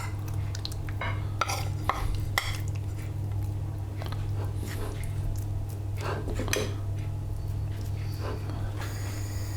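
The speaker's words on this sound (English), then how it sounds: "take our seasoned flour and add our steak, our cubed steak, into the flour" Cubed steak is pressed and turned in a bowl of seasoned flour, soft close scraping, dabbing and brushing sounds in irregular bursts over a steady low kitchen hum, with no talking.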